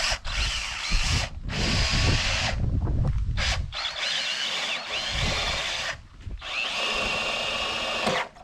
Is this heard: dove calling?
no